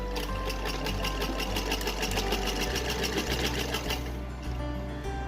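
A sewing machine stitching a shoulder seam on a small night suit for a Bal Gopal idol, running in a fast, steady rhythmic chatter with a low motor hum underneath, close and continuous, no speech.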